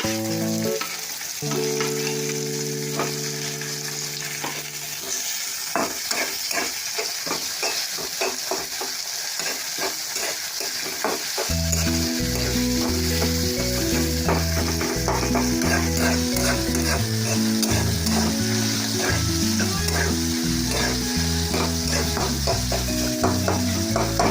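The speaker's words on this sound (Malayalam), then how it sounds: "തക്കാളി ചേർത്തിട്ട് നല്ലതുപോലെ ഒന്ന് ഇളക്കി യോജിപ്പിക്കണേണ്" Tomatoes are stirred into sautéed onions in a pan for egg curry, a continuous loud sizzle with repeated spatula scrapes, set under background music that swells midway.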